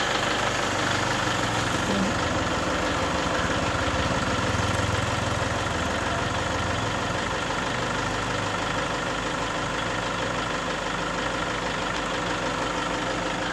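A Toyota Grand Innova 2KD diesel engine idles throughout, heard from outside, a constant low rumble with a faint rhythmic knock, no voices.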